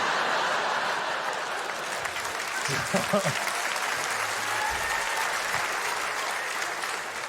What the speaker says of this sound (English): The applause of people who've had this booked for 7 months there.